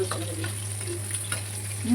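Green gram simmering in a pan over a low flame gives a soft, steady sizzle with faint bubbling and occasional light ticks, under a constant low hum.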